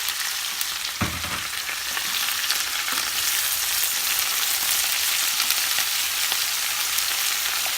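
Champignon mushrooms frying in a pan for tagliatelle with zucchini, a steady close sizzle with a louder hiss and clatter near the start as they go in, continuing evenly throughout.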